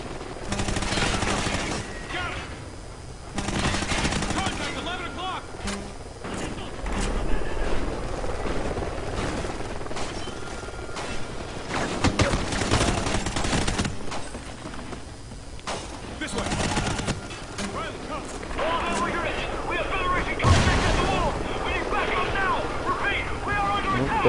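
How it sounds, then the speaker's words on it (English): Helicopter in a Call of Duty Ghosts single-player mission, its rotor and engine noise mixed with bursts of machine-gun fire and other battle sounds, with a player talking over the action throughout. "There's a helicopter."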